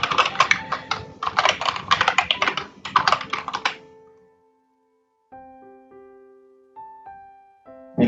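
A password is typed on a computer keyboard while logging into a Palo Alto firewall's admin page, heard as quick close bursts of key clicks in three clusters, followed by silence and a few faint soft tones.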